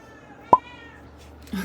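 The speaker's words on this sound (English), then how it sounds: "You can hear my cat." A single short cat meow, fairly close, in an otherwise quiet room, followed by faint rustling.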